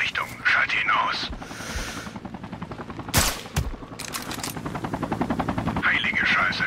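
A single loud, sharp sniper rifle shot cracks out in Sniper Ghost Warrior 3, standing out from dense game ambience, scattered background shots and voices.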